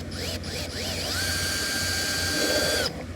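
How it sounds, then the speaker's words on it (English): A power drill pre-drills a hole in the plastic dash of a 2023 Can-Am Defender, whining up to speed, its pitch climbing and then holding a steady high tone before cutting off, close by and with no talking. "we're just going to pre-drill a hole in the dash, drill it out"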